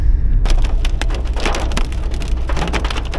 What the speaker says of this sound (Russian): начался адский град